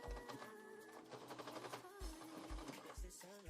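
A home sewing machine runs in rapid bursts of stitching through a fabric laptop case with interfacing, its needle chatter close and loud, pausing and restarting between short runs while faint talk sits underneath.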